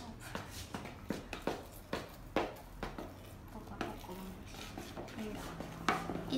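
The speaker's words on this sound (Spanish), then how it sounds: "mientras vamos removiendo" A spoon scrapes and clinks against a bowl while talcum powder is stirred into a mixture. The knocks come in an irregular, repeated rhythm, close by, with faint voices in the background.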